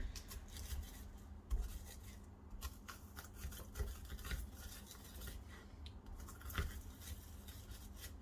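Three garlic cloves being pressed in a handheld garlic crusher in a home kitchen while stuffed cabbage is prepared: faint, close metallic scraping, clicking and squeezing in an irregular rhythm over a quiet room.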